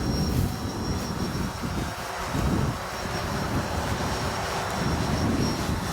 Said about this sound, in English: it can't hardly stay straight because the wind's blowing so hard